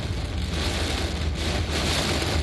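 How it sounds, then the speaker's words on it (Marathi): Heavy rain pours down in Bandra, Mumbai, a steady, dense hiss that stays constant throughout, with a low rumble underneath. "मुंबईतील वांद्र्यात मुसळधार पावसाला सुरुवात झाली आहे"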